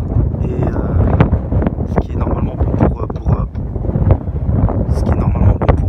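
Steady wind buffeting a microphone outdoors, a loud continuous low rumble with gusty swells throughout.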